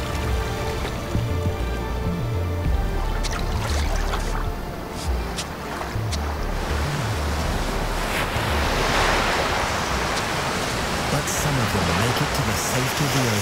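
Surf rolls and breaks steadily on a beach, a loud continuous wash of waves with wind buffeting the microphone and a low rumbling undertone throughout.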